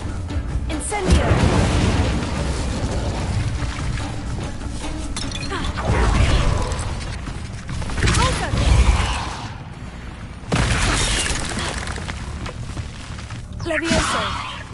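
Hogwarts Legacy's Incendio fire spell is cast in a spider-filled house, making loud whooshing bursts and crackling, shattering impacts that repeat several times amid creaks and clanking mechanisms.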